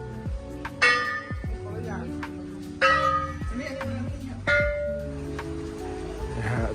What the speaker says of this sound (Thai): จะต้องเคาะระฆังก่อนสักสามครั้งนะฮะเคาะระฆังก่อนสามครั้ง